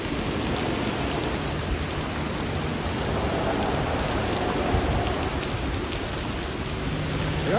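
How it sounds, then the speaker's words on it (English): Heavy rain pours down steadily during a downpour in the Bronx, heard from shelter under a bridge, as a dense, constant hiss of drops striking surfaces that stays loud and unbroken throughout with no voices. "I don't mind a little bit of drizzle, but it's coming down pretty hard right now."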